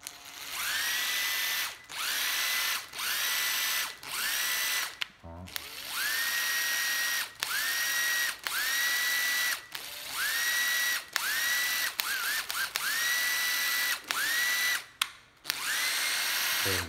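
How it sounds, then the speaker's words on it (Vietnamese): Makita 12V cordless drill with a separate external battery pack, run in repeated short bursts that whir up and stop with brief pauses between, close and loud with no talking. "Thang rời thang ngoài 12V Makita máy chạy nha mọi người"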